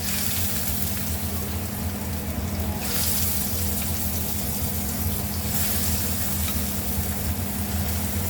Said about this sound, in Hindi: और इसके बाद में इसमें ये तड़का डालेंगे।